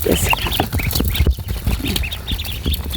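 A group of fourteen ducklings kept in a pen with food and water peep and chirp in quick, overlapping high calls close by, along with rustling and shuffling.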